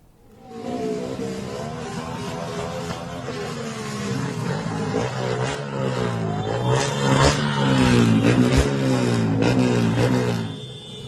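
Motorcycles with loud modified brong exhausts rev hard on a street in Makassar, Indonesia, during a funeral procession convoy. Several engines rise and fall together in a steady, overlapping roar close by.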